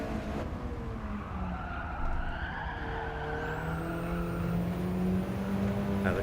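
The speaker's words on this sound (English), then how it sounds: "Now the car slides right into that corner if you're not changing down" Tires skid and squeal as a race car slides into a corner in a time-trial racing video game, a sustained smeared screech over steady engine drone, fairly loud and continuous throughout.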